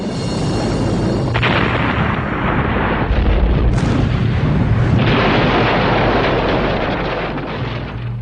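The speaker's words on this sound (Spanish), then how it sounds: "una máquina a presión elevada que se usaba en Greenwich, Londres, explota" A high-pressure steam engine boiler in Greenwich, London, explodes with a loud, sustained roaring blast that stays dense and rumbling for several seconds, with further bursts layered in before it slowly fades.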